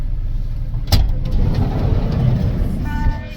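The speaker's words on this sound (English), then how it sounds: "The tour van departed for Chacaltaya" Tour van driving toward Mt. Chacaltaya in Bolivia, heard from inside as a loud, steady low engine and road rumble with a brief thump near the start and faint voices in the background.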